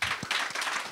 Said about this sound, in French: je vous prie d'applaudir Marlène.